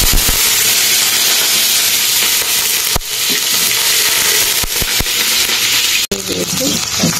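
Chopped onion sizzles steadily in a hot pan for bhuna khichuri, a dense close frying hiss with occasional sharp clinks of a spoon against the pan; no talking.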